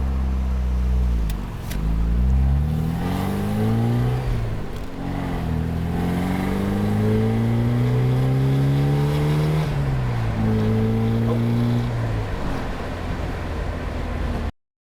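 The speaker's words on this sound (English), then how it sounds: "As you can see, my vintage Porsche is up and running." The engine of a vintage Porsche 944, running again after sitting for over a year, idles and is revved repeatedly, its pitch climbing and falling in several close, loud pulls for about fifteen seconds with no voices.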